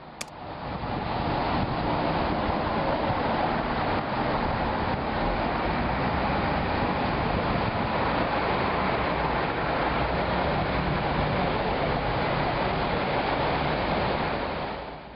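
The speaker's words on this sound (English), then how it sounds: "there's a constant flow of water due to all of the water features that you hear while you're within the courtyard" Water features in a London courtyard send a constant, even rush of flowing water, steady and fairly loud throughout with no other distinct sounds.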